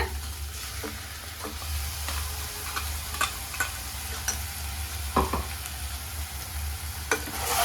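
Ground masala sautéing in a pan for quail pepper gravy gives a steady close sizzle and fry with occasional stirring scrapes and clicks, continuous and without speech.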